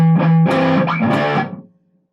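Distorted electric guitar strumming one rock rhythm measure with palm-muted notes, loud and close, played alone for under two seconds before ringing out and fading.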